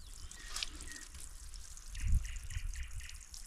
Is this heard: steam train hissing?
no